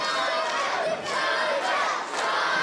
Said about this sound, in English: listen to that sold-out Brockington crowd getting behind Simon Miller